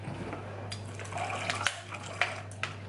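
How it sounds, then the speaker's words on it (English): Water splashes and trickles briefly into a thickening mixture in a bowl, a few faint pouring and sloshing bursts over a steady low hum. "We're going to add more water."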